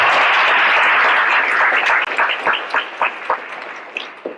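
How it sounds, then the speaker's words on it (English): Audience applause for a Hall of Fame selection committee at a Petersburg Athletics induction ceremony: dense, loud crowd clapping that thins into scattered separate claps toward the end. "You can give them a round of applause."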